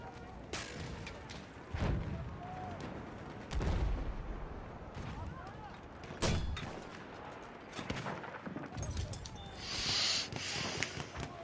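Mortar fire and explosions in a video game, with several heavy booms and thuds spaced a few seconds apart over a low rumbling background.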